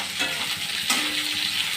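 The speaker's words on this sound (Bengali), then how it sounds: "এখন দিছি কাঁচা লঙ্কা আর হলো পেঁয়াজ কেটে রেখেছিলাম, দুটোই দিয়ে দিলাম তেলের মধ্যে ছেড়ে" Sliced green chilies and onion hit hot oil, giving a dense, bright sizzle that runs continuously and close, with a sharper flare partway through and no voices.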